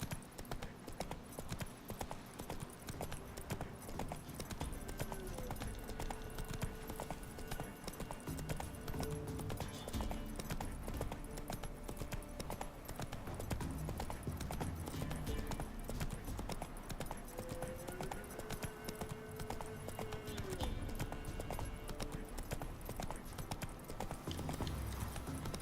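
Roach, the horse in The Witcher 3 video game, gallops with steady, rapid hoofbeats that continue throughout, faint and unbroken, with brief whinnies here and there.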